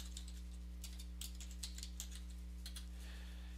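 Computer keyboard typing in a Studio One Prime home studio setup, a quiet run of light clicking keystrokes over a steady low electrical hum, no voices.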